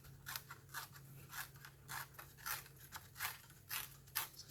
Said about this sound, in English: Just gonna roughly tear that.